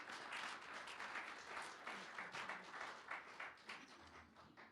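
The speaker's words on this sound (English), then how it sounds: "Round of applause." Steady applause from a crowd at a sobriety court awards ceremony, a dense wash of clapping that holds at an even level for several seconds.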